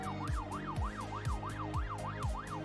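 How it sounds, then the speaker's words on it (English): A wailing siren rises and falls in a steady, rapid cycle, loud and continuous, over low rhythmic thumping beats, in the video game Cities: Skylines II. "sirens match the European or North American theme of your city"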